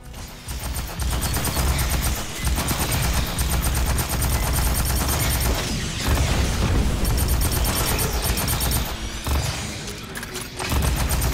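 Dense, continuous gunfire from the video game Aliens: Fireteam Elite, with rapid automatic bursts and booming impacts layered into a loud, relentless barrage with brief dips.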